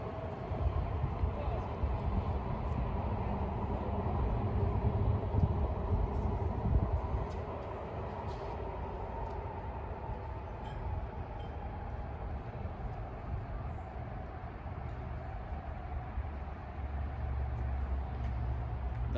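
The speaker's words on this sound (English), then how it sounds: "There's the train." A train rumbles past nearby, a steady low roar and clatter that swells and holds for the whole stretch, with faint voices and background bustle.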